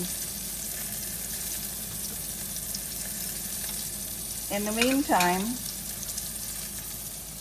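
A cod fillet frying in butter in a pan, steady soft sizzle throughout, with someone speaking briefly over it.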